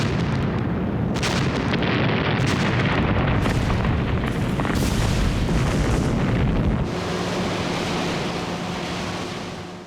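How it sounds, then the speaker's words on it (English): Explosions from carrier-based aircraft bombing Pacific atolls in 1943: loud, dense booming and rumbling blasts that pile up continuously, then ease into a lower, fading roar. "For a week, the atolls were bombed by carrier-based aircraft."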